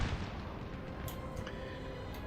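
Booming artillery fire from a Napoleonic battle in Napoleon: Total War, making a dense, rumbling wash of distant cannon with a few sharper reports cutting through.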